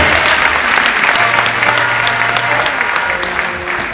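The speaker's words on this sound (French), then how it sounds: "je vous demande de les applaudir très fort" Sustained, dense applause from a large audience at the closing ceremony of the SARA 2019 agricultural show in Côte d'Ivoire, honouring prize-winning young people; steady and loud throughout.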